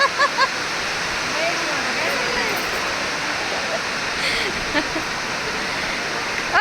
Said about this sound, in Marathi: भाऊ काय चाललंय तुझ्या लग्नात कडेत खाल्लं तर पाऊस बघा ना केवढा पाऊस पडलाय